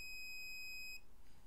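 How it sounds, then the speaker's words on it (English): An electronic alarm gives a string of rapid high-pitched beeps for about a second, then stops. "this is the alarm 2. It will beep few times"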